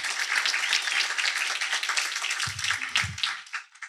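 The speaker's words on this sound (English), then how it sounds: "Could you give them a round of applause for that" Audience applause at a fellowship demo day, a crowd clapping steadily and fairly close, with a few low thumps partway through before the clapping tapers off.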